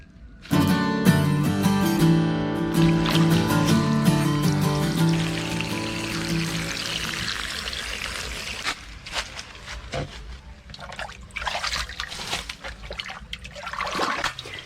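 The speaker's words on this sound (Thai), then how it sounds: "แล้วก็น้ำนี่เดี๋ยวเราระบายข้างล่างนะครับ" Water drains from a cement pond through a pipe, a loud continuous rush and gurgle that later breaks into uneven splashing and trickling.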